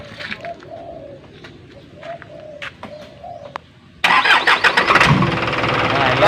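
Pigeons coo softly in the background until a car engine, its dead-battery problem just fixed, cranks on the starter and catches, running loud and steady for the rest of the clip.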